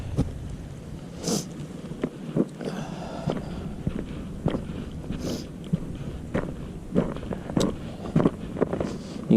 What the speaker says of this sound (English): It's crunching under my feet.